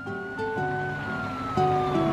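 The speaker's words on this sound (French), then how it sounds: "Elles laissent passer la voiture de police et l'ambulance." Cartoon police car and ambulance sirens from a children's animation wail together in overlapping two-tone patterns, loud and continuous for a couple of seconds.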